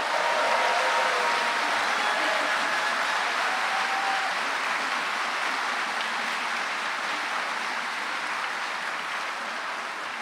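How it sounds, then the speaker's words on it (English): Graduation ceremony audience in an auditorium cheering and applauding, a steady dense wash of clapping with a few whoops that holds loud for the whole stretch and eases slightly near the end. "So if I could indulge you in a cheer and a round of applause for all of those above."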